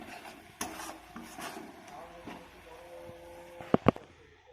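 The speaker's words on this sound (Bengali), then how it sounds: "এবার মশলাটাকে কম আঁচে এইভাবে কষিয়ে নিতে হবে।" Spice masala being stirred and fried on low heat in a pan for a Bengali egg curry, with soft scraping and rubbing of a spoon against the pan, ending in a couple of sharper knocks against the pan.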